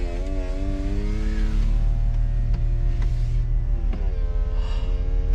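A BMW Z4 E85 roadster's electric convertible roof opening while parked, a steady whining motor hum with shifting tones over an idling engine, interrupted by a couple of mechanical clunks.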